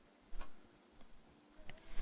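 In the Space Station 13 video game, a small metal pin on a gun slide moves in and out, giving faint scrapes and several light ticking clicks, ending in a sharper metallic click.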